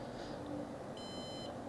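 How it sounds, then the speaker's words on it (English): A Synology DS1010+ NAS unit gives a short electronic beep as it powers off, a single thin tone in the second half over a steady low hum of fans. "Okay, just beeped."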